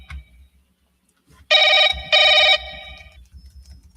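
Ringback tone of an outgoing call to a voicemail landline, two loud electronic ring bursts in quick succession with a brief gap, after a quiet start and ending in low background rumble.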